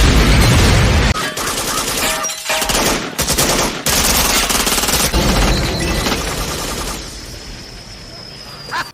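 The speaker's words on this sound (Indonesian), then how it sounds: "Mereka lalu menembaki mobil polisi tersebut hingga meledak" Dense bursts of automatic gunfire from a Robocop movie scene rattle loudly alongside explosive booms as a police car is shot up and blows up, with faint voices mixed in.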